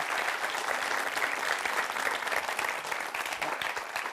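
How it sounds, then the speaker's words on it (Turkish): Sustained, dense applause from a crowd, clapping steadily at an even loudness throughout. "Bir kuvvetli alkış o zaman"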